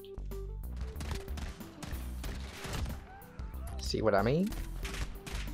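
Pistol shots ring out in Call of Duty as a string of sharp, separate cracks mixed with other game effects and a melodic tone, while a voice talks over part of it.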